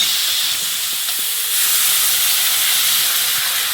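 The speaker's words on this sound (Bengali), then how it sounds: "এবার কচুর মধ্যে জল দিয়ে দেবো।" Loud, steady hiss and sizzle as water is poured into taro cooking in a hot pot over a stove, a bright rushing steam sound that swells slightly midway and continues without speech.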